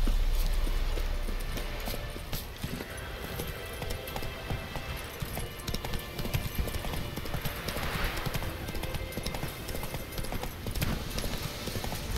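Horse hooves clip-clop steadily on a road in The Witcher 3, an even walking rhythm kept up throughout at moderate volume, with a faint whinny and a few quiet voices mixed in.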